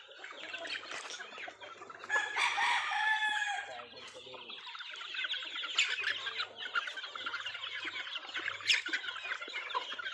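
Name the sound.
stags (young roosters) clucking eagerly while eating feed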